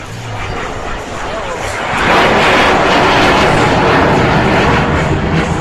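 An Avro Vulcan bomber flies slowly past at the Clacton Air Show in 2013. A broad, distant roar swells after about two seconds and holds loud and steady, with a voice heard over it.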